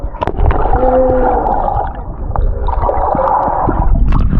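Water sloshing and gurgling as a person dips into a private swimming pool at a resort in Sreemangal, close and splashy with bubbling bursts, alone without talk.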